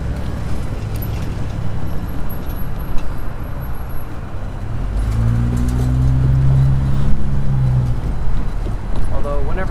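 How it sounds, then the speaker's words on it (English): Heavy road traffic runs near a rail line, with a continuous low rumble of passing cars and buses, a deeper engine drone swelling midway and faint brake hiss, steady and fairly loud. "whenever traffic gets this bad"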